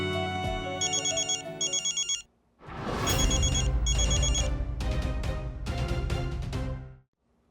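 A telephone ringing with bright electronic trills in repeated bursts, a short pause, then louder and busier ringing that stops abruptly near the end.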